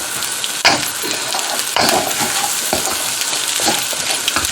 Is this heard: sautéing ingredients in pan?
yes